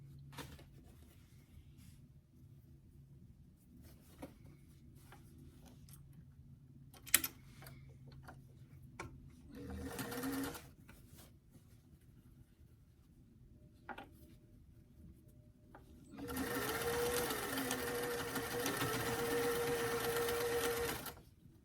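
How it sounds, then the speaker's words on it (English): A sewing machine stitches across the top edge of a waistband and its lining, with short bursts of rapid needle clatter, then a longer steady run near the end, all close and without talk. "Now we're just going to sew across that top edge."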